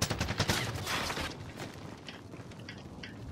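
Rapid bursts of gunfire from an online squad shooter, dense and loud at first, then thinning into scattered distant shots and mechanical clatter, with no talk.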